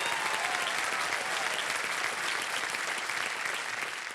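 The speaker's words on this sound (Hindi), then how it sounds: "जोरदार तालियां बज जाए।" The studio audience on the KBC 2025 quiz show gives loud, sustained applause, many hands clapping steadily and tapering slightly at the close.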